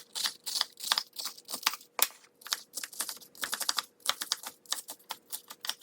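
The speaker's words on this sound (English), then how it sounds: "you can use a knife to cut it up" Kitchen knife chopping iceberg lettuce on a cutting board for a chicken salad, a steady run of close, crisp crunching cuts with short pauses between bursts and no talking.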